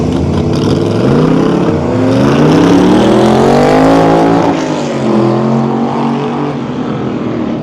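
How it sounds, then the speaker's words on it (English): A GMC pickup and a Ford hot rod pickup race side by side at a rat rod meet, engines roaring loud and close with rising and falling revs that sweep upward as they accelerate past, then fade slightly. "We'll see how the GMC does against the Ford hot rod pickup."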